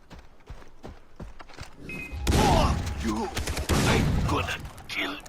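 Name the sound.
shotgun fire, video game Far Cry 3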